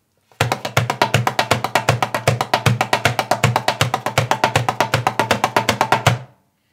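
A dumbek drum played in fast, even triplets with a dry tone, dozens of crisp close strokes in a steady rhythm, alone with no talking.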